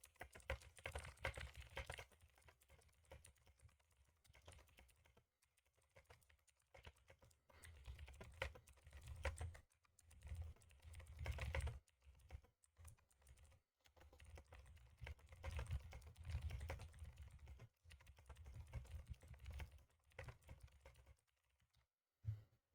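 Fast, steady typing on a computer keyboard, at around 100 words per minute, makes dense, continuous key clatter with brief pauses, quiet and close with no talking.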